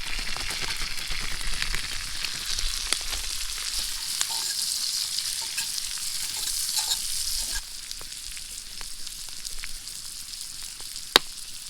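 Beans fry in butter in a frying pan over a campfire, a loud, dense sizzle and crackle that drops to a softer sizzle partway through, with occasional stirring clinks and no talking.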